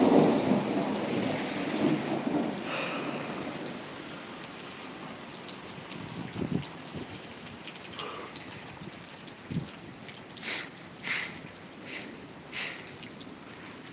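Rain falls steadily during a November thunderstorm as a deep rumble of thunder rolls at the start, followed by scattered drips and patters on surfaces and a few sharper knocks and splashes close by.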